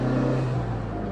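A Mitsubishi Evo 9 with an upgraded turbo compressor wheel accelerates hard, its engine giving a steady, loud, close drone with a strong low rumble that holds throughout.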